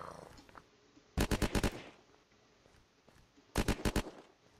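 Two rapid bursts of about five shots each from a minigun in Unturned, sharp and rhythmic, separated by a quiet pause with faint background ambience.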